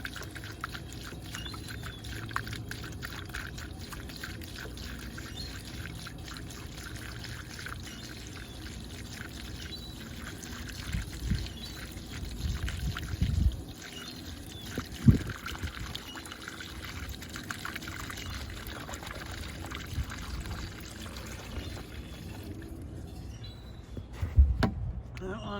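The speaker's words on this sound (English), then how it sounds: "Basically just pour this in." Antifreeze pours steadily into a boat's water tank for a long stretch, a soft continuous gurgle with a few clunks near the end.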